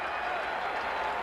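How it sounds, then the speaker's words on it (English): Crowd applauding at a 1984 college football game between West Virginia and Boston College, a dense, steady wash of distant clapping heard faintly throughout. "And West Virginia's applauding,"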